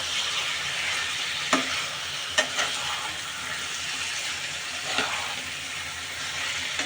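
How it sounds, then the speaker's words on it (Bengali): Chicken curry with turmeric powder sizzles steadily in a pan, with a few sharp clinks and scrapes of a spoon as it is stirred, fairly close and without any talk. "এবার নেড়ে নেব।"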